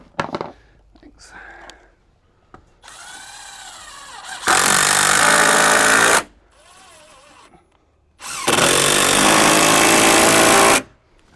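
A power drill drives screws into sawmill lumber siding in two loud, sustained bursts of whirring and grinding, separated by quieter handling and shuffling noises.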